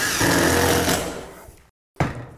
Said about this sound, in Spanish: Y los atornillaré. Ahora estoy usando un tornillo de 3 pulgadas.